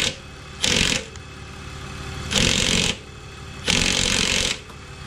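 A tool on a BMW E46 works at a loose top nut on a rod in three separate loud bursts of whirring, rattling noise, each about half a second long, with quieter pauses between them.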